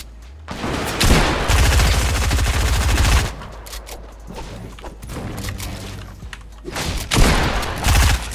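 Gunfire in the Fortnite video game, bursts of rapid automatic shots in two dense loud stretches with a lull of scattered quieter shots between, with no talking.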